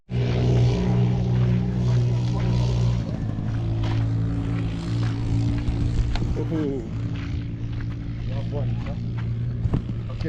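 An automatic motorbike engine running on a street in Egypt, a steady low drone that rises with throttle under frequent conversational speech, close and continuous, with traffic noise around.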